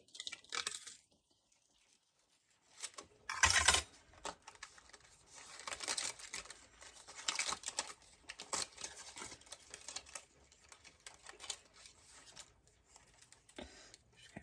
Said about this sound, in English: I'm going to line this up and run this one through the die cutting machine